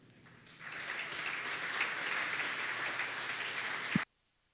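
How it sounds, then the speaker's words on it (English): A GrafanaCon LA conference audience applauds steadily for about three and a half seconds, a dense even patter that stops abruptly into near silence. "big round of applause for Torkel."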